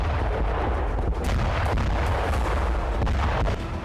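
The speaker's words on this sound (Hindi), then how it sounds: "यूक्रेनी सेना ने क्लस्टर बम का इस्तेमाल किया। धरती पर एक के बाद एक कई धमाके हुए।" Continuous dense roar of cluster bomb explosions in the Ukraine war, many blasts in quick succession forming a loud, sustained rumble with a few sharper bangs standing out.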